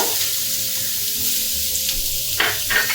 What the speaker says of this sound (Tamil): இந்த எண்ணெய் காஞ்ச உடனே இந்த ரொம்ப சிறுவாக அரிஞ்சு வச்சுருக்கேங்க. அந்த வெங்காயத்தை போட்டுருவாங்க.